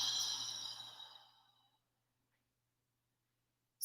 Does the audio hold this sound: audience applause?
no